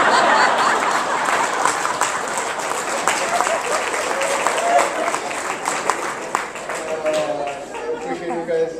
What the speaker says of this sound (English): I appreciate you guys clapping and getting that joke.